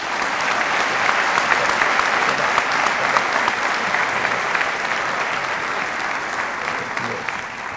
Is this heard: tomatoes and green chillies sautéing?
no